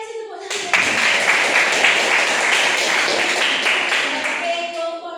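Class participants applauding together indoors, a dense, steady burst of clapping that runs about four seconds before tapering off.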